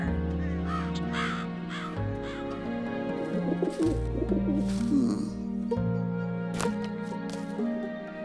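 A green bird in an animated children's story lets out several loud cawing, squawking cries up close, set against a continuous musical score.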